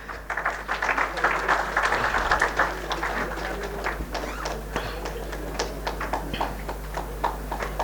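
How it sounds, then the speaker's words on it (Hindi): Audience at a Rajasthan arts academy award ceremony claps in scattered, uneven bursts, strongest at first and thinning toward the end, heard at moderate distance. "तालियां हो जाएं।"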